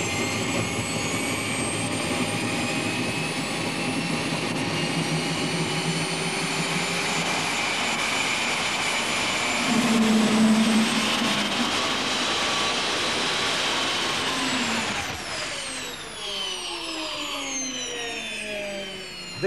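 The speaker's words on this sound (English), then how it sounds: "It is the only model aircraft in the world with a working jet engine." A model aircraft's working jet engine runs in a studio with a loud, steady turbine roar and high whine that swells briefly, then winds down with falling tones near the end.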